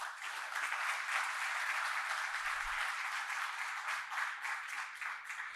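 A university book-launch audience claps in steady, sustained applause, fairly quiet and even throughout, with no voices over it.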